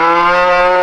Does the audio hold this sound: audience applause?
no